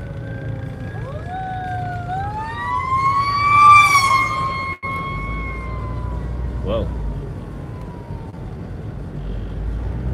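Emergency vehicle sirens pass on the road, wailing and sweeping in pitch and peaking loudly before fading, over steady road and engine rumble with a voice talking alongside.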